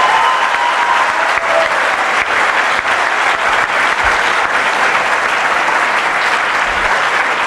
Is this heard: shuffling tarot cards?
no